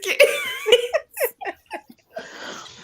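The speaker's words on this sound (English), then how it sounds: "You over there coughing, laughing so hard." A person coughs several times in quick succession, close and loud, the harsh bursts mixed with breathy laughter and followed by a rougher, sustained exhale.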